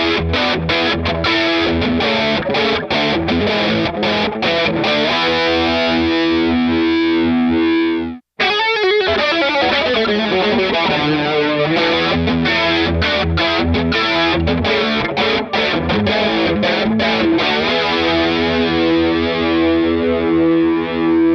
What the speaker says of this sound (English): When the chorus is after the distortion, it's much more dominant in the signal.